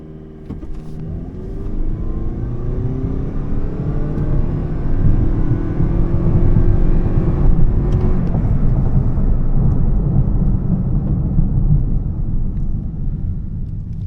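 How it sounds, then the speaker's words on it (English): Toyota Prius PHEV plug-in hybrid rated at 225 hp, driven at full throttle in sport mode: a loud engine drone climbs briefly, then holds at a steady, unchanging pitch with road rumble underneath. "I will put it to sport mode. And yeah, then I just give full throttle."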